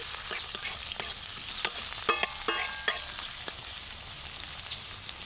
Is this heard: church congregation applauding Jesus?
no